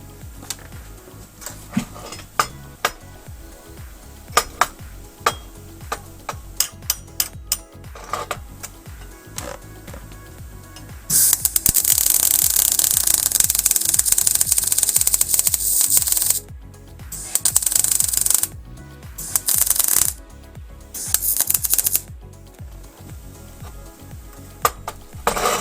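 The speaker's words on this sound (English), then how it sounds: "now I can give that a weld along the back" Welding along the back of a metal sculpture gives loud crackling, hissing bursts that come in several runs with short gaps, preceded by quieter clicks and handling clatter, close by and without talk.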